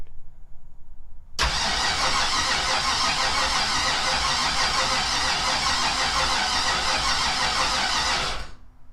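A 5.3 turbo Mustang engine with spark and MS3X issues cranks loudly and continuously for about seven seconds, a dense steady churning roar close by, then cuts off abruptly.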